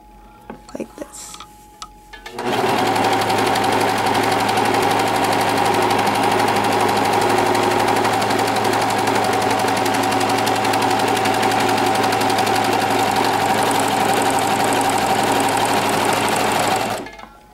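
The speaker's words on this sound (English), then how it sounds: "To do the flatlock stitch, I'm going to start stitching like this." A Singer Professional 5 serger sewing a flatlock stitch on fabric: after a few quiet handling knocks, the machine starts abruptly into a loud, continuous high-speed whirring drone that runs steadily and then cuts off.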